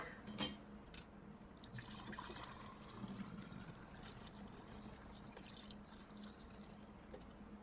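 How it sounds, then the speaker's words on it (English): Milk from an Irish Dexter cow pours steadily through a strainer into a half-gallon jar, a soft continuous liquid trickle and splash close by with a few faint clinks, no talking. "area on the sides here for filtering the milk."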